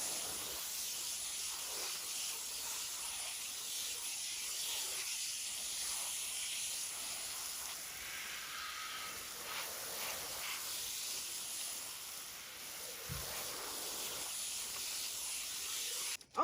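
A hose spraying water onto a raised garden bed, a steady soft hiss of spray that runs continuously at an even level from start to finish, with no voices.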